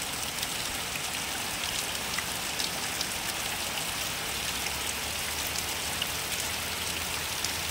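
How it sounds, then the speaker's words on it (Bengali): Heavy monsoon rain pours steadily onto surfaces and plants outdoors, a dense, continuous hiss with scattered drops pattering throughout, no voices. "দেখুন কি বৃষ্টি হচ্ছে।"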